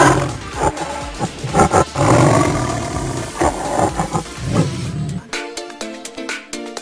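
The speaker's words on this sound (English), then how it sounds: "tiger, tiger," A tiger roars loudly and continuously in a full, rough growl with pulsing bursts for about five seconds, ending in a series of short rhythmic tones.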